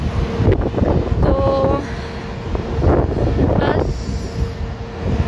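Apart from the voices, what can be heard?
wind blowing outdoors in a park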